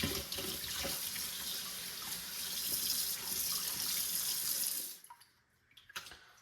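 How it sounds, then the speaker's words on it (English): Wild oyster mushrooms are rinsed under a running kitchen tap, a loud, steady hiss of water that cuts off abruptly near the end, followed by a few faint handling clicks. "So I'm gonna rinse them off, cut them up, make sure they're good and clean"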